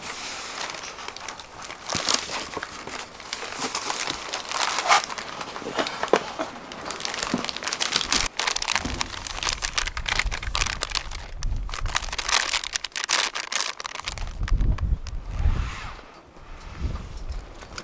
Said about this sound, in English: It's in a sealed plastic bag, one of those vacuum bags.